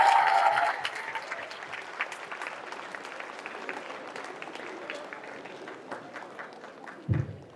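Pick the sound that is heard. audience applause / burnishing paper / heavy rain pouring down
audience applause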